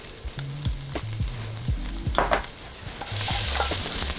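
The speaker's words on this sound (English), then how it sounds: "I'm gonna go ahead and add my tomato paste." Vegetables and tomato paste sizzle in a pot for braised lamb shanks, a loud close frying hiss with scraping stirs and clatter, the sizzle swelling toward the end; no speech.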